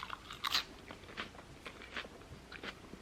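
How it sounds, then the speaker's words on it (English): Crisp crunching bites of a lettuce salad with ginger dressing and crunchy toppings, a few close, quiet crunches spaced out over soft chewing, with no talking. "when I eat my salad, I literally just dip my lettuce in the ginger"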